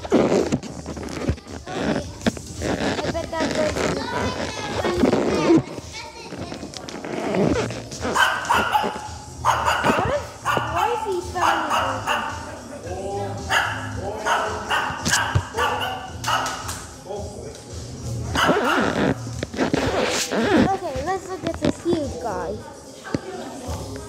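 Large poodle-like dog at a cat-dog cafe, giving a few short barks and soft whimpers amid close, continuous talking and handling noises.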